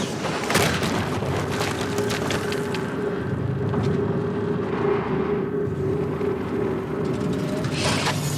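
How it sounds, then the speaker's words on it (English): A heavy explosion booms in Horizon Zero Dawn Remastered, a loud sustained roar with crackling, splintering debris layered over a low droning background. "another explosion."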